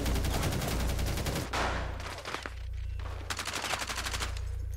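Rapid automatic gunfire in the video game Rainbow Six Siege, loud and close, firing in dense bursts separated by short pauses.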